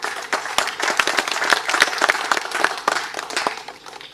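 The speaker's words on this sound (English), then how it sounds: "I think Governor Leone deserves another round of applause" A room of central bank officials applauding a governor at a committee meeting, with many hands clapping at close range in a lively, uneven patter that holds for several seconds.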